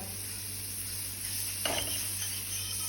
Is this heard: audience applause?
no